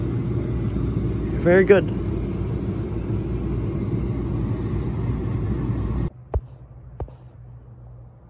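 A newly hooked-up oil furnace runs and blows heat with a steady low roar. A voice speaks briefly early on, then the rumble drops abruptly to a much quieter background with a couple of sharp clicks.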